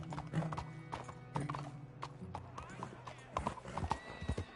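Horse hooves clip-clopping through a town in Red Dead Redemption 2, a steady near trot with a brief whinny, under someone talking.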